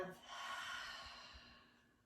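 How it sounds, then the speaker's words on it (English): A single long breath pushed out through the mouth during a gentle yoga practice, a soft airy exhale that swells and then fades over about two seconds, close and quiet. "Full exhale out through the mouth"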